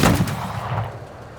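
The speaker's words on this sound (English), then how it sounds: "A chain gun shot and then a pipe gun." A chain gun shot followed by a pipe gun firing in a video game, one strong blast at the start with a booming tail that rumbles on and slowly fades, no voices.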